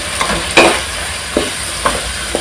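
Coriander and chilli powder are stirred into kalan kulambu in a pan over steady sizzling, with a few scraping strokes of the spoon, close and loud with no talking.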